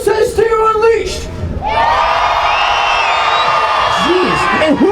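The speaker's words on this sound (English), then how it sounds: "One more cheer off." A large crowd at a Renegade Monster Trucks show in Gaithersburg, Maryland roars and cheers for the Stinger Unleashed truck, a loud sustained wall of shouting and whooping after a brief announcer voice.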